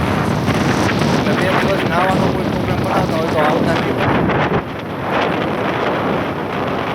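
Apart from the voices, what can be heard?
strong wind and rough sea at a Goa beach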